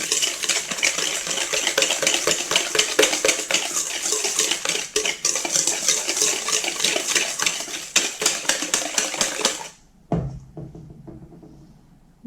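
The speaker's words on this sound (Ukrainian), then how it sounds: "додамо решту цукру та зіб'ємо яйця. Не зіб'ємо, а просто перемішаємо." Eggs and sugar are mixed by hand in a bowl, with a spoon or whisk clattering rapidly and loudly against the sides in busy scraping strokes that stop, then one short final clink.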